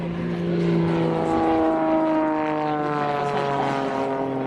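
A propeller aerobatic airplane flown by a world aerobatics champion drones steadily overhead, its engine tone rising and falling slightly as it maneuvers, loud and continuous with no talk.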